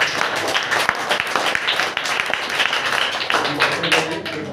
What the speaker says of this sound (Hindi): सारे बच्चों के लिए ताली बजाओ।